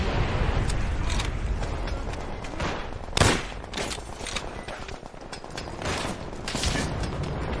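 Dense gunfire in Call of Duty: World at War, a veteran campaign battle, with rapid overlapping shots and a sharp louder blast a few seconds in, sustained throughout at close range with no clear talk.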